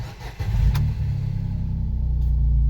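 A Gator utility vehicle's engine starts and revs up, then holds a steady, loud, close rumble with a brief higher burst early on.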